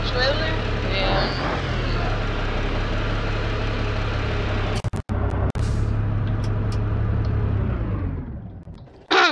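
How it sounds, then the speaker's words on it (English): A bus in BeamNG.drive reversing up to a trailer, its engine a steady low rumble droning throughout, broken by a few sharp clicks before fading out, with someone talking over it. "we'll back this back up to the trailer"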